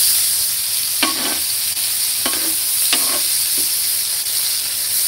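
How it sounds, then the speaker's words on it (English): Diced onions and burgers sizzle on a griddle with bacon grease outdoors at Whitefish Lake, a constant loud frying hiss broken by a few spatula scrapes and presses. "Gonna throw down these onions that I just diced up. Press those burgers down a little bit."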